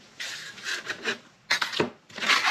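Rough rasping bursts of a sanding disc passing along a thin plywood edge, in several uneven passes with short pauses between them, close and moderately loud.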